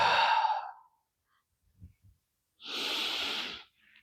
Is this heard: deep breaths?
yes